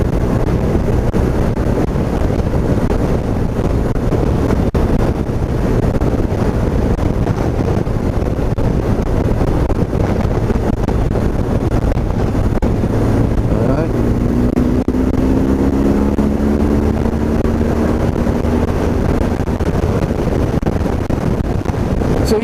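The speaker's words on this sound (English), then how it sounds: "air-cooled boxer has still got more than enough get up and go" A motorcycle with a 1200cc air-cooled boxer engine rides along a steep country road, its engine a steady low drone mixed with heavy wind rush, rising in pitch partway through.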